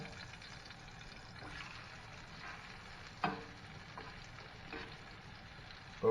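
Catfish fillets fry in browning butter with turmeric, giving a soft, steady sizzle with occasional light clinks and pops, faint and close.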